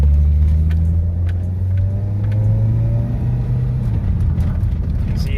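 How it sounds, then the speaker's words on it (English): A 1988 Toyota Corolla FX, freshly fitted with an aftermarket carburetor, accelerates on the road, its engine a loud, steady droning rumble with a rising tone, heard from inside the car. "You can see it accelerates great."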